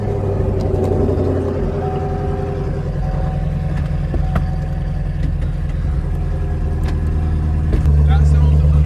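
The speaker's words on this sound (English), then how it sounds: "I realized I haven't heard the full cold start yet." A Chevrolet Camaro SS engine rumbles at a steady, loud idle during a cold start, a low continuous drone heard close up with a few light clicks and clatter over it.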